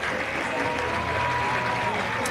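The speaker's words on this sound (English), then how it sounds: "He'll get a round of applause from the Lehi faithful." Lehi baseball crowd applauding a departing pitcher, a steady wash of clapping and cheering from the stands that fills the whole moment at moderate distance.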